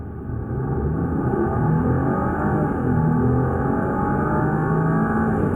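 A Maserati Ghibli S Q4 accelerates hard, its engine rising in a steady, loud, close rumble with rising harmonic tones that hold for several seconds, with no voices.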